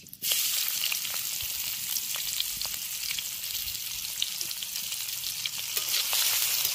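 Chopped onions dropped into hot oil left from frying fish, over an outdoor clay stove, a loud bright sizzle bursting up after a short pause and crackling steadily throughout.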